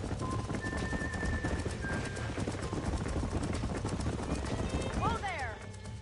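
Horses clip-clopping at a steady rhythm in the Western game Red Dead Redemption, hooves on dirt over a dense bed of ambient noise, with voices talking throughout and a brief whinny-like sweep near the end.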